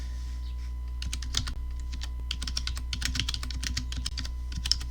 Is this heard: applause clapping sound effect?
no